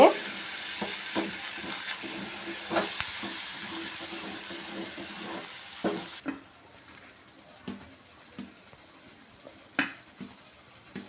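Indian jamun fruit gojju cooks in a pot, giving a steady sizzling, bubbling hiss broken by scattered soft knocks that sound like stirring; the hiss drops noticeably partway through while the knocks carry on.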